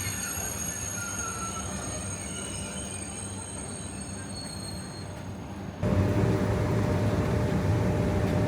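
A train in Marseille rumbles steadily with high-pitched wheel squeal, recorded from inside or beside the train, with a sudden louder surge of noise partway through and no talking.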